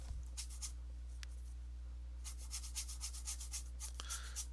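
Oil paint scrubbed onto canvas with a paintbrush in a live painting session: soft, faint bristly rubbing strokes in short irregular bursts over a steady low electrical hum.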